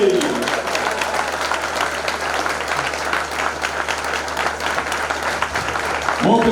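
An audience at a Caucus Forum leadership inauguration ceremony in Juba applauds an award recipient, a dense, sustained clapping that runs steadily for several seconds before a voice cuts in at the end.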